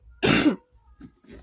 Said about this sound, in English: I'm so sorry for coughing, y'all